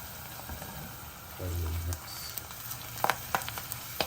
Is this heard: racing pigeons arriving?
no